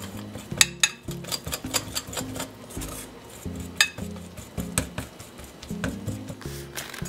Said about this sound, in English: Then I'm just going to whisk this together.